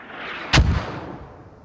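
A mortar round explodes in the military shooter Squad Ops, one sharp, loud blast with a deep rumbling tail that fades over a second, set against a steady background of distant battlefield noise.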